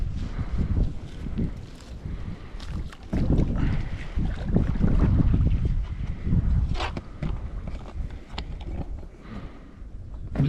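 Gusty wind buffets the microphone beside an outdoor minnow trapping pond, a low rumbling roar that swells and eases over several seconds with occasional small clatters and no talking.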